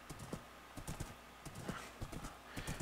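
Horse hooves clip-clopping in the Minecraft-style video game KohiCraft, a steady run of quick game hoofbeats close up, with a brief whinny-like sound among them.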